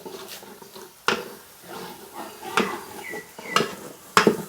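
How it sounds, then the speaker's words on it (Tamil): A child stirs Pondicherry-style biryani in a cooking pot, producing a few sharp metallic clanks and scrapes of a spoon against the pot at irregular intervals, close and fairly loud, with no talk. "நம்மளோட குட்டி செஃப் வந்து இன்றைக்கி வந்து பிரியாணி கிண்டுறாரு"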